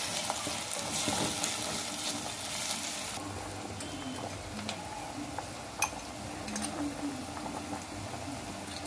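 Minced meat with crushed garlic fries in a pan for spaghetti bolognese, giving a steady close sizzle throughout with occasional stirring clicks and scrapes.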